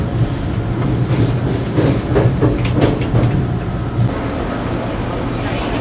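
A steady low rumble of a moving train crossing the Sacramento River en route to Berkeley, California, with a deep droning hum and faint rhythmic clatter, heard from on board.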